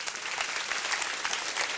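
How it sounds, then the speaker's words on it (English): Audience clapping at a school alumni career day, a steady wash of many hands at moderate level through the whole short stretch, with no talk over it. "Can you clap for me?"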